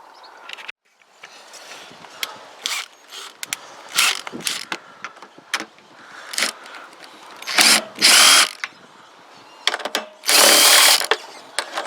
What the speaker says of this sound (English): Let me get the power tools out.